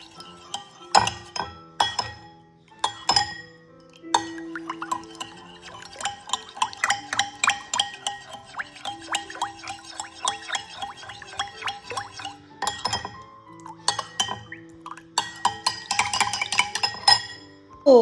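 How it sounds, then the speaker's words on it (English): Egg and salt for a potato börek filling are whisked in a glass bowl, a steady run of close, bright clinks and scrapes from a utensil against the glass, with a few sharper knocks at the start and end. "We mix."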